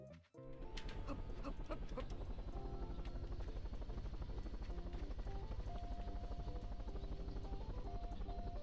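A helicopter in Totally Reliable Delivery Service thumps with a steady rotor chop and whining engine, loud and continuous with no talking.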